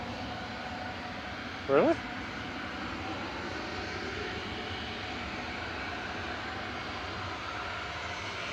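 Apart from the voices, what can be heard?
Ryanair Boeing 737-800 jet departing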